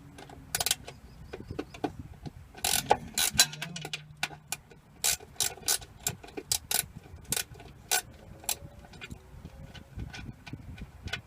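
A large bolt is worked loose and pulled from a Cummins Onan generator mounted on a Travato 59G camper van, heard as a run of sharp metallic clicks, taps and scrapes at close range.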